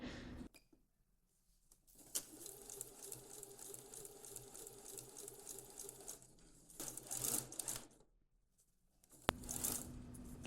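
A sewing machine stitches slim piping cord into a western blouse, running in two long stretches of steady whirring motor noise separated by quiet pauses and light handling of fabric.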